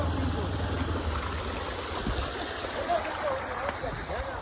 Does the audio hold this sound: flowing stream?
yes